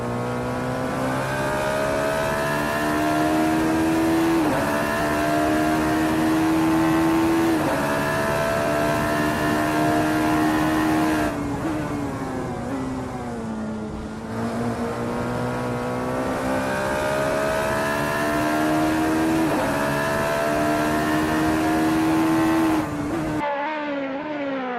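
A Radical SR3 race car in a racing sim at Donington Park, its engine droning loudly and steadily, rising in pitch through each gear then dropping briefly at the shifts, on a flying practice lap.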